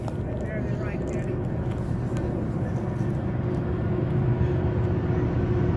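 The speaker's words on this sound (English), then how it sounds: "And a jet." An F-18 military jet flies over Afton Canyon in the Mojave Desert, a steady broad roar filling the scene, while a train also passes and a person talks over it.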